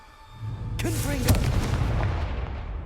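A Confringo blasting spell goes off in Hogwarts Legacy as one loud, booming explosion with a bright crack, and its rumble trails away over the next couple of seconds.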